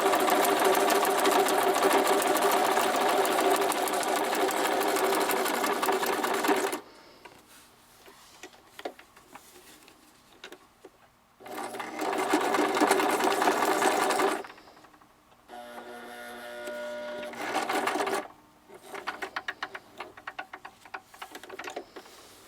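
A sewing machine stitches lace onto paper in bursts: long loud runs of rapid mechanical whirring and ticking separated by quiet pauses with small clicks, the motor starting and stopping several times.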